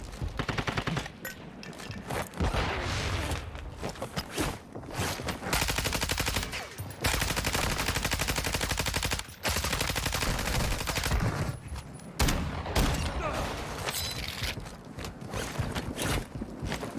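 Rapid, loud gunfire in a shooter video game, dense bursts of shots packed close together with brief pauses between volleys and faint footsteps underneath.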